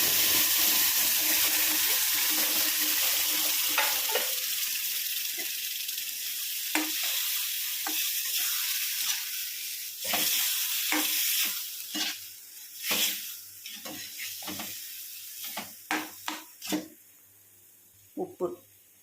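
Mashed elephant yam (pidikaranai) hisses and sizzles in a pan, starting as a steady frying sizzle that gives way to repeated scraping stirs and soft thuds, close and fairly loud.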